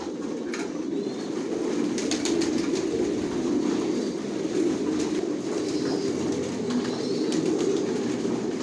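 Racer pigeons cooing in a loft, with a dense, continuous low cooing from several birds throughout and a few faint higher chirps, steady and close.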